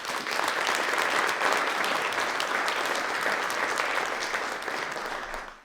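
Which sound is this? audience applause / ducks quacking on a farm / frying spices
audience applause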